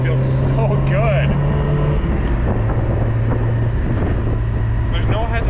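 Mazda Miata engine pulling under acceleration after a transmission swap and clutch install: a steady droning hum inside the car, with voices talking over it.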